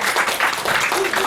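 An audience at an Indonesian internet governance forum applauds a speaker called to the front, a loud steady wash of clapping filling the whole moment.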